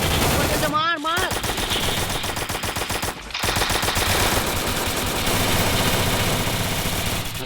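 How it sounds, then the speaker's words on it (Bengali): Gunfire from the mobile shooter game Free Fire: loud, dense automatic bursts rattle almost continuously, broken by a brief pause near the start and another around the middle, with an engine-like drone underneath. "গুলি লাগছে, লক্ষ্য দিয়েছে।"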